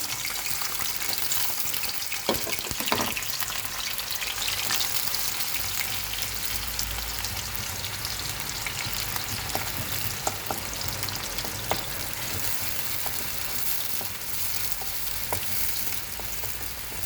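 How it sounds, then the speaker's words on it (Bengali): Onion, green chili and garlic fry in hot oil on a stove, a continuous close crackling sizzle with scattered pops and occasional stirring scrapes, no talking throughout. "চুলায় তেল দিছি, পেঁয়াজ কাঁচামরিচ রসুন একবারে দিয়ে দিলাম চুলায়"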